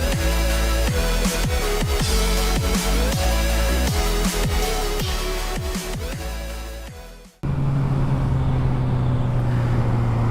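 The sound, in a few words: Suzuki GSXR 750 motorcycle riding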